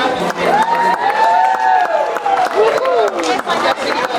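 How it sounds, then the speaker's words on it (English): Crowd at a junior football club presentation day cheers and claps, with children shouting excitedly over a dense, lively mix of noise. "can we give her a big round of applause?"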